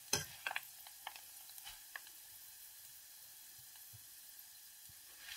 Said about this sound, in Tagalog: Kaagad naglitaw yung kasi mainit yung mantika natin. So, mabilis lang yan. Mabilis lang siyang maprito.